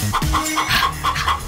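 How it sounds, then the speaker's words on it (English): A hen clucks in short, close, loud bursts, several quick notes in a row with no voices. "H is for hen."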